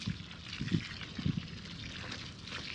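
Water poured into a planting hole for a fruit tree in hot weather, with soft trickling and a few gentle splashy surges that sit fairly quiet and close throughout.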